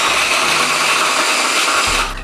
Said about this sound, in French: On branche ton mixeur et on y go.